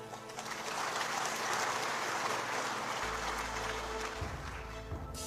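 Audience applause at a political talk by Ganjar, a broad steady wash of clapping that holds throughout, with a low hum rising in the second half.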